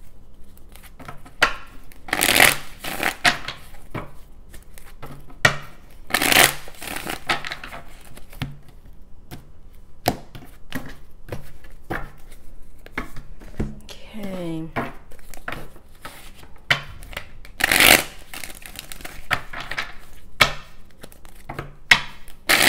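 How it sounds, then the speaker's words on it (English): A deck of tarot cards is shuffled over and over, giving irregular crisp slaps, flutters and papery riffles that come in bursts, close and fairly loud in a quiet room. "let me shuffle these cards a little bit so we can see what's going on"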